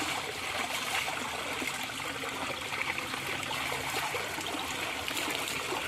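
Water from a cold spring flows and trickles continuously, a steady, soft, close rushing with no voices.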